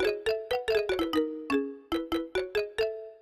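A Roland Fantom keyboard plays bright, bell-like stabs with a short delay effect on zone 8, so each note gets a quick doubled echo like two hands playing; a steady, moderately faint rhythmic pattern of clipped chords.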